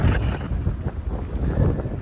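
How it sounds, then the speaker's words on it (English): Steady wind buffeting the microphone, a low rumbling roar with gusty swells throughout, loud and close, no voices. "as soon as I turn this on, it starts being windy"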